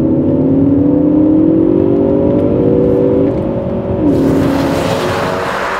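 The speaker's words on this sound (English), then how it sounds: "that fine sound comes from a four-cylinder turbo engine" A Ford Focus ST with a 2-litre four-cylinder turbo engine of 247 brake horsepower accelerates hard, its loud, steady drone rising in pitch, then dropping briefly at a gear change before climbing again, heard up close from the car.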